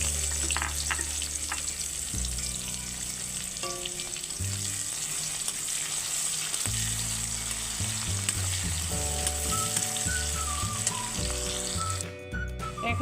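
Chopped onion sizzles and fries steadily in hot oil with black cumin and bay leaf, a dense continuous crackle with a few light clinks and stirring near the end.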